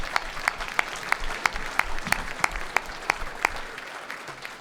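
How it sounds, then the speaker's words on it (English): An audience at a Half Century Club luncheon for the Class of 1973 applauds with steady clapping, moderately loud and indoors, sharp individual claps standing out from the crowd's wash. "Let's give a round of applause for the newest members of the Half Century Club"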